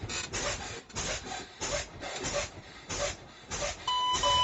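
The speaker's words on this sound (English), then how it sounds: "we start pumping the brake" Air brake pedal pumped repeatedly on a heavy vehicle during a Class 3 air brake inspection, giving a series of rhythmic hissing bursts roughly every half second, close and moderately loud, with a faint steady warning tone entering near the end.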